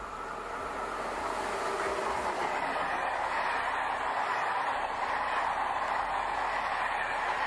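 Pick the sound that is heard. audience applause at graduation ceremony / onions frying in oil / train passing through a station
train passing through a station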